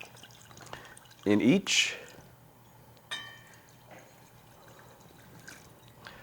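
Sake is poured into a pan for yakitori sauce in a short, close burst of liquid splashing and dribbling, followed by a few faint drips, while a person talks around it.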